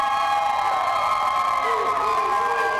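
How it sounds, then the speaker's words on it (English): A rowdy, fast-growing crowd cheers and shouts inside a college basketball arena, a dense, continuous roar with whoops and high voices sustained at full volume throughout. "Very quickly growing crowd, very rambunctious crowd out here tonight."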